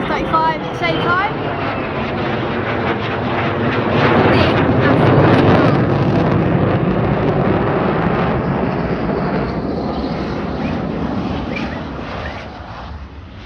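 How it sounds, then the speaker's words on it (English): An F-35 Lightning fighter jet flies past at RAF Lakenheath, its loud engine roar swelling to a peak midway and then slowly fading, with wind noise and a person speaking over the sound. "There goes an F-35 at the same time."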